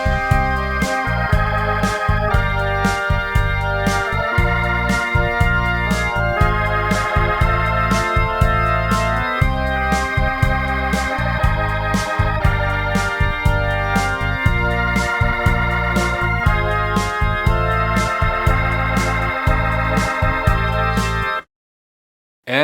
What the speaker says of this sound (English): In verse 3, there's a Hammond B3 part